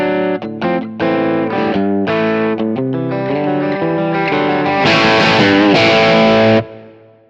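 Overdriven electric guitar through a Kemper Profiler's overdrive effect, playing a loud, sustained run of distorted chords and notes with a brighter, fuller swell near the end before cutting off.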